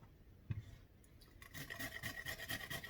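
Fresh turmeric root is shredded on a grater as an herbal tonic is prepared, giving a quiet, rhythmic, close-up rasping that builds after a soft bump and continues steadily.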